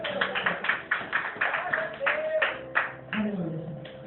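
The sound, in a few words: congregation clapping after prayer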